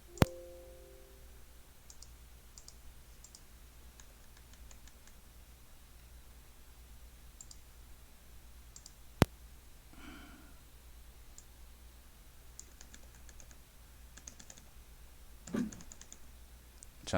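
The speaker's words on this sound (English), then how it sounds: "trying to get the fucking keyboard to stop acting up" A computer keyboard that keeps acting up gets clicked while someone tries to fix it: sparse, faint key clicks in short bursts over a quiet hiss, with a sharp click near the middle and a soft rustle toward the end.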